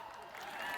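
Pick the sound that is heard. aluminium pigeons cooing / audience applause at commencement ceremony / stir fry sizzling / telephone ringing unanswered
audience applause at commencement ceremony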